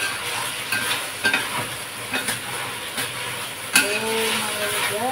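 Eggplant with spring onion being stirred in a pan, giving steady sizzling and several distinct scraping knocks of the utensil at irregular intervals.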